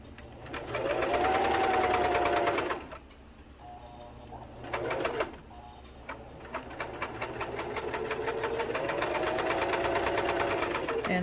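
A Singer 328k sewing machine running a long straight stitch, a steady rapid mechanical clatter with a whirring motor that stops briefly twice and then resumes, close and fairly loud.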